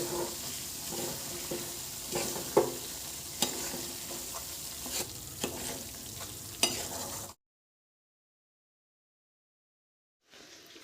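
A spoon scrapes and stirs flour roasting in desi ghee in a pan over a gas flame for adadiya pak, with a soft steady sizzle and sharp intermittent clinks. Everything goes silent before a brief return at the end.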